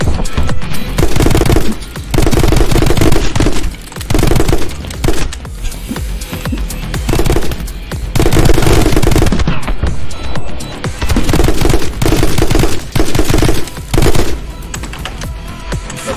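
Rapid gunfire erupts in a My Friend Pedro final boss fight against Ophelia, with loud bursts of automatic shooting and heavy impacts broken by brief gaps, dense and close throughout.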